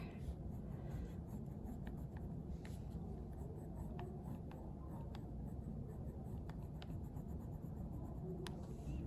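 A pen sketches on paper in short, light strokes and scratches. The marks repeat irregularly and stay faint and close over a steady background hiss.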